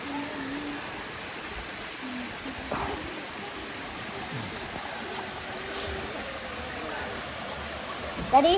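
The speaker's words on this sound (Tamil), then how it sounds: "பார்த்தீங்களா அப்படியே இங்கே தண்ணி விழுந்து இங்கே போகுது." Water from a stream falls and flows along the top of a waterfall in a rainforest national park near Mount Glorious, Queensland, a steady broadband rush with some faint voices and small sounds over it.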